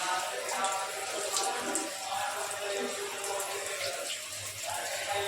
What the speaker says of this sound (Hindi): बस पानी गिर रहा है